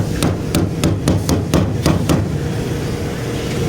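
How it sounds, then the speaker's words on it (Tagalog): A hammer strikes a metal roof gutter during repair work, giving eight sharp, close, roughly evenly spaced blows over a low background hum before the striking stops. "dahan-dahan lang, ingat lang sa pagpukpok kasi baka masugatan sa gilid"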